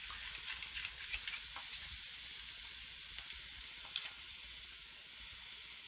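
Broccoli and lemongrass stir fry sizzling in a pan, a faint continuous crackle with light scattered pops and one sharp tick near the end.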